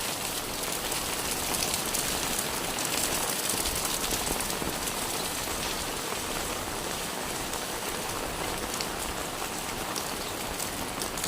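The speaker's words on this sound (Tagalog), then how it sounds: "Ayan, naulan na." Steady rain pours down in a tropical neighbourhood during the season's first downpour, a dense, even hiss of drops hitting surfaces with no pauses and no voices.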